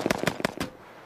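A rapid burst of four or five sharp cracks in quick succession, loud and close, then fading out; AK-47 rounds striking an armored vehicle.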